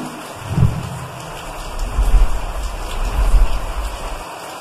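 Steady rain falls as a broad, even hiss with low rumbling swells that suggest distant thunder, with no voices over it.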